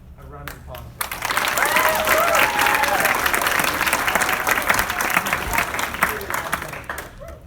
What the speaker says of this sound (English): we just want to have a round of applause for her